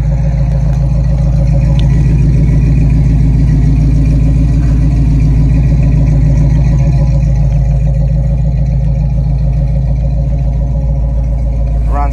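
A restored 1969 Chevrolet Camaro SS idles steadily up close, its loud, even engine rumble continuous and unbroken with no talk over it.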